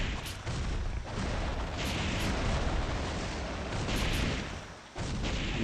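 Fire Wheels ninpo attack in Ninja Gaiden Black, played on an emulator during a boss fight: a sustained loud roaring, crackling fire blast with a few sharp bursts, filling the whole clip with a brief dip near the end.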